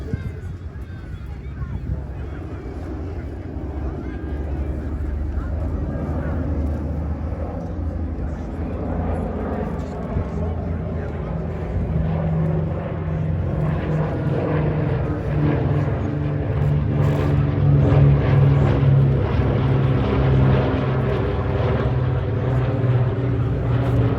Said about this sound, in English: that B-29 right there is one of only two